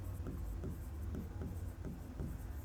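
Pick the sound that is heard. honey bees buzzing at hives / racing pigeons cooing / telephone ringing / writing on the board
writing on the board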